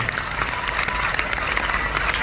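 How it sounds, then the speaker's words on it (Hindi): A school audience at Sanskaram School in Jhajjar, during a visit by poet Kumar Vishwas, claps loudly and continuously, a dense wash of many hands with a faint crowd murmur beneath. "तालियां बजाओ यहां पे।"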